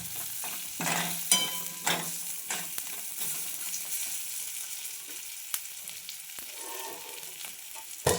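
Stuffed eggplant frying in oil with chili powder in a pan over low gas, giving a steady soft sizzle with a few stirring scrapes and clicks, close and fairly quiet, with no talk.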